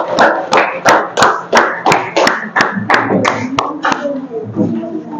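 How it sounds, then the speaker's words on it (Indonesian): A school maths class in Indonesia claps together in a quick, uneven burst of separate hand claps, close and fairly loud, fading out after about five seconds. "Tepuk tangan."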